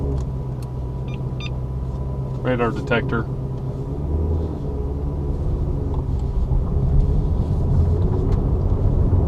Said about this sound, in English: So to get this car going, put your foot on the brake and put it in drive.